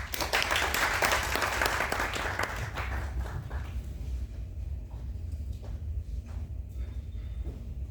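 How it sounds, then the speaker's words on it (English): Audience applause at an academic session, loud clapping at the start that fades into scattered claps within a few seconds, leaving a quiet room. "Big round of applause."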